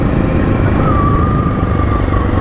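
Loud, steady engine drone of big motorcycles riding past on a road, close and continuous with a faint whine over it.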